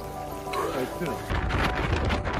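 Heavy rain pours down with a loud, dense hiss that swells partway through, mixed with rumbling noise and brief indistinct sounds.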